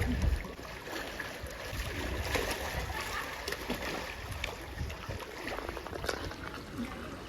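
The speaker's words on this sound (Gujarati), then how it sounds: "पानी मेरे को खींच रहा है. पानी के साथ जाते हुए" Water rushes and churns steadily, a continuous close wash with occasional splashes and no clear voices.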